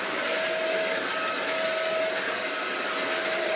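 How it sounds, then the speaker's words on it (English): A Shark EP600 bagless stick vacuum runs close and loud with a steady, unbroken whine and airy roar throughout, without speech. "this is a small stick vacuum"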